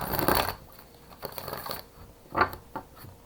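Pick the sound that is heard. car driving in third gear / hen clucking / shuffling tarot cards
shuffling tarot cards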